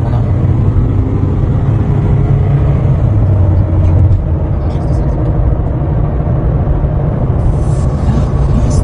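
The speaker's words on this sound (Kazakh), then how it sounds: "Газды до конца бастым." Toyota Alphard accelerating at full throttle, a loud low engine drone and road rumble heard from inside, steady and continuous across nearly nine seconds, with no clear speech.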